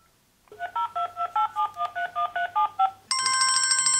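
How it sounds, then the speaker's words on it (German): A number is keyed on a smartphone as a run of about a dozen short, evenly spaced dial tones. A steady, close ringing tone follows. "wählt eine Nummer auf ihrem Smartphone"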